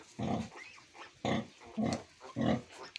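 A sow with newborn piglets on a farm, four short grunting oinks in a loose, uneven rhythm, heard close and fairly quiet with no talk.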